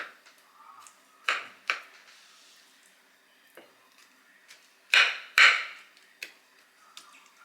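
Pricking holes in raw chicken legs produces scattered soft taps and squishy thuds, a few louder clustered hits amid quieter irregular ticks, close by with no talking.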